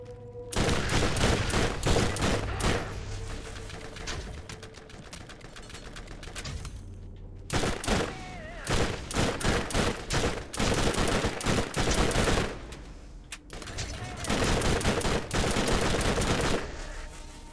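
Rapid bursts of gunfire from a gun in Borderlands, close and loud, firing in dense runs of shots with brief pauses between volleys.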